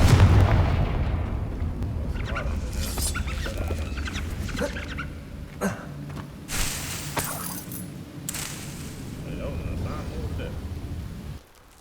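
In the Hogwarts Legacy video game, a Confringo spell goes off with loud, close blasting bursts and crackling impacts over a rumbling background, fading toward the end.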